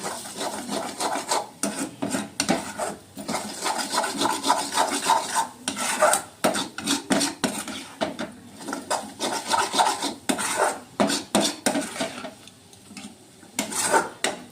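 Cracked eggs whisked in a bowl, a close, continuous rasping scrape of utensil against the bowl in quick repeated strokes with short pauses, no voices.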